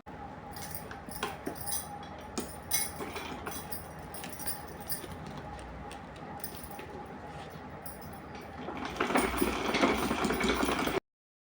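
A sewing machine stitches fabric for a small doll's fancy dress, a close, steady mechanical whir with light rattling and taps that grows louder and busier near the end before cutting off.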